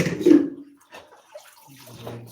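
Tap water runs briefly into a basin to set up water for soaking, a short splashing rush that fades quickly.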